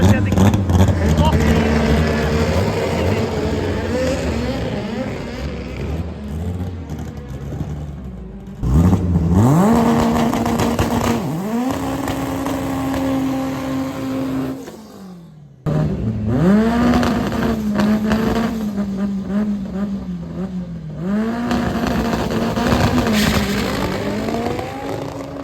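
A turbocharged front-wheel-drive Ford van makes a drag racing run, its engine roaring and climbing through several hard gear changes with brief drops between shifts, loud and close, with a commentator talking over it.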